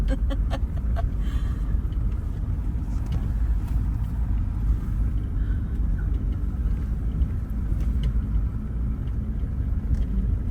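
A vehicle drives slowly along a dirt path in Baja California, its steady low engine rumble and road noise continuous and close throughout, with no talk.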